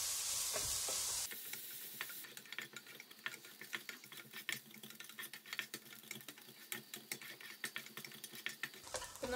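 Thinly sliced onions sauté in a pan for a potato cauliflower kootu curry, heard as a soft sizzle under frequent light clicks and scrapes of stirring. The sound is fairly faint and even.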